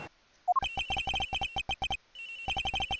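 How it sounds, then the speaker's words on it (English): A phone ringtone from the Ace Attorney Investigations video game rings as rapid bursts of bright electronic chirping tones, broken by one short pause, with no talking over it. "Agent Hicks' phone! It's ringing from somewhere,"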